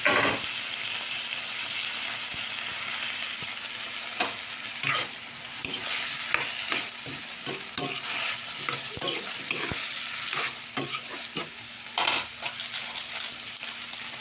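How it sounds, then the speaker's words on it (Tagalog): Okra and tomatoes sizzle in a hot pan for a Filipino ginisang okra sauté, a constant frying hiss broken by repeated scraping and clinking stirs that grow busier toward the end. "Ilagay na natin yung ating okra at kamatis."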